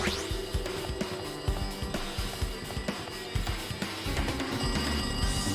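A telephone rings repeatedly in the Danganronpa 2 video game, a steady ringing tone set against busy game music and sound effects.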